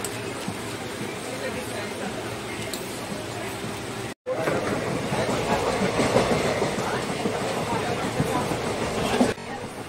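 Steady rumble and rhythmic clatter of a train from Bangalore to Goa rolling along rails, continuous and fairly loud, with a brief drop-out midway and voices faintly mixed in.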